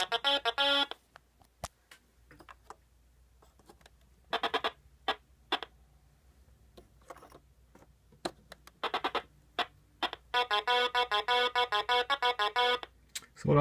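A 1982 electronic Stratego board game gives off electronic beeps and tone bursts: short blips, then rapid runs of beeping that build into a long, steady burst of pulses near the end.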